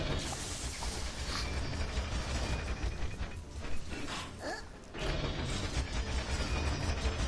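Giant drill machinery in Plants vs Zombies Garden Warfare 2 churns with a dense mechanical grinding, ratcheting clanks and creaks, loud and continuous with a brief dip before it surges again.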